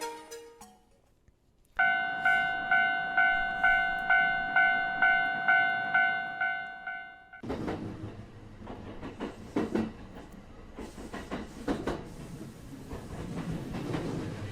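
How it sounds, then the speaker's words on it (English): A train rolls along in a video game, first with a steady repeating bell-like tone pulsing at a regular rhythm, then a dense rumbling clatter of wheels on track that continues with no voices. "Our story continues inside the Galloping Steel Dragon, better known as a train to the modern reader."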